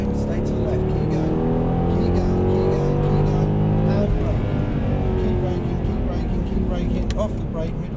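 A Mercedes-Benz SL63 AMG on a test drive at Mercedes-Benz World Brooklands, its engine droning loudly and rising in pitch as it accelerates from inside the cabin, with an instructor's voice talking over it.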